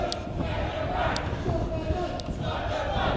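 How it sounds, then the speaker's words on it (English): A protest crowd outside Colchester Town Hall keeps up a continuous roar of voices and cheering, with a few sharper shouts rising above the steady noise. "It sounds like a decent crowd. They're making plenty of noise."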